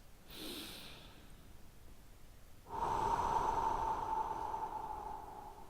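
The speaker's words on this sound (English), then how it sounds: "we'll start again by taking 3 big deep breaths" A single deep breath during a guided relaxation before a running session: a soft short inhale, then a longer, steady, breathy exhale close to the mic.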